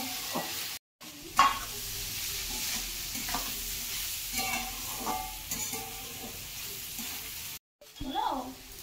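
Cauliflower, potato and peas frying in a pan, a close steady sizzle with stirring scrapes and clatter, two brief dropouts, and some faint voice in the background.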